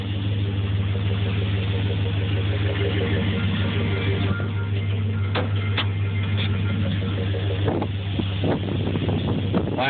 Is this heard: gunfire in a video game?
no